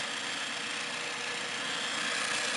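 A Hardinge HSL-59 super precision speed lathe running, giving a steady, even hum and whir at moderate level with no change over the short stretch and no voices.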